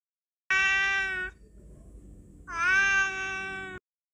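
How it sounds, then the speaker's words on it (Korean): A cat meowing at a window at night, two long, loud drawn-out meows close by with a quiet pause between them. "다음 날도 고양이가 창문에서 울었다"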